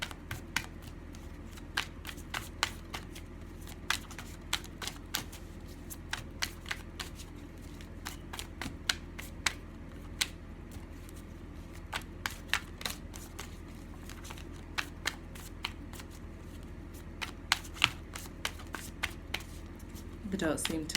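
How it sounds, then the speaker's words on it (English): Tarot cards being shuffled by hand, a long run of close, soft riffling and tapping clicks repeating irregularly over a low steady background. "We'll let a few cards fall out, and we'll pick up the story."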